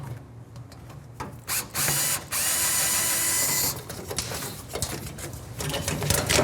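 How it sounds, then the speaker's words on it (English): A ratchet works loose the lower valance bolts on a 1971 Road Runner, giving rapid clicking runs in short bursts, close and moderately loud over garage background noise. "So we'll need to lower it down and get those lower bolts out."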